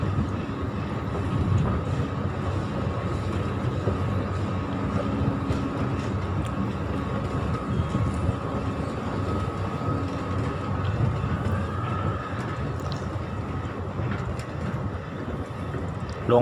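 Steady low rumble of an MRT underground metro train at Chatuchak Park station in Bangkok, continuous and fairly loud, with faint echoing background noise throughout.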